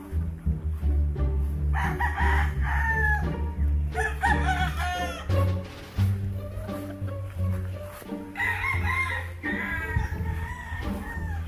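Rooster crowing repeatedly on a simple family farm, loud and close, several drawn-out calls rising over steady low rumbling background noise.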